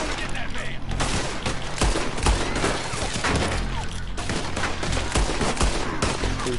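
Dense gunfire in Red Dead Redemption 2 crackles in rapid, overlapping shots over a steady game backdrop, loud and close, with voices talking underneath.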